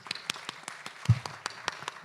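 An audience at a conference open discussion claps for the speakers, a fairly quiet scattering of individual hand claps at an uneven rhythm with no voices.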